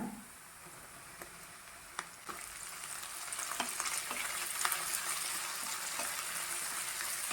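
Sliced onion and chopped cabbage saute in a pan for a Kerala-style cabbage potato curry, a soft close sizzle that grows slightly louder, with occasional light clicks of a spoon and no talking.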